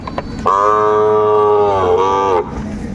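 A Sahiwal bull gives one loud, close, sustained moo lasting about two seconds, with quieter background noise before and after.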